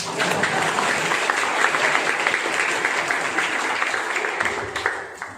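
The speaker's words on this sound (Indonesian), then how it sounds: "Tepuk tangan" A crowd applauding steadily, dense clapping sustained throughout at a fairly loud level, with no talk over it.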